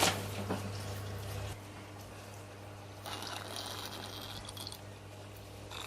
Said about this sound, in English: Water's definitely coming in at this end.